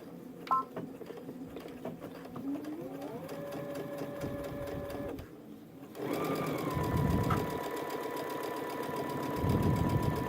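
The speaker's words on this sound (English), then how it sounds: "I'm just going to go ahead and top stitch this pocket down" A sewing machine top stitches a pocket onto a backpack in bursts of rapid mechanical whirring, stopping briefly between runs and then picking up again louder, close by and with no talking.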